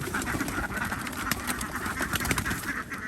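Egg-laying ducks on a farm in Loei, Thailand quack in a busy, overlapping chorus against outdoor background noise, steady and moderately loud with no talking.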